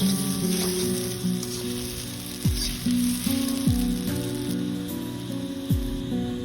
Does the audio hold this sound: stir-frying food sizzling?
yes